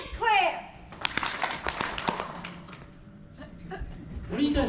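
A convention panel crowd for Six Flags Fright Fest claps in a brief burst of sharp, scattered hand claps that thin out into a few stray taps, with a voice speaking at the start and end.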